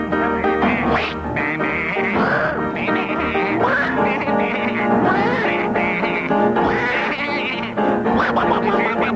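Voices imitate a duck's quacking while singing a tune on a radio comedy panel show, with loud, rhythmic, nasal quacks following the melody and laughter coming through.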